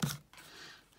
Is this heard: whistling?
no